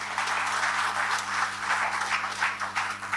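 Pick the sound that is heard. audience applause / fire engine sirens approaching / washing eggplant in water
audience applause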